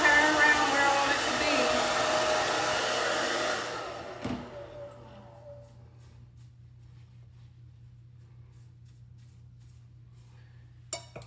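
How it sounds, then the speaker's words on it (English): A hair dryer blows on a synthetic wig, a loud steady airflow roar for about four seconds that then cuts off, leaving a faint hum and a brief clink near the end. "I just use the hair dryer to just kind of move the hair around"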